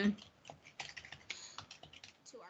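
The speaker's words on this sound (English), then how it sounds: "I'm just typing in these to show you" Rapid, irregular keystrokes on a computer keyboard, soft and close, with faint talk in the background.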